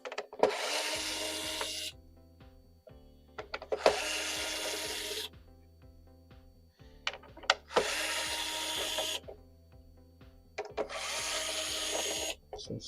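An electric screwdriver backs screws out of a PS5 console during an HDMI repair, giving four close whirring bursts of about two seconds each, separated by short pauses, with no talking.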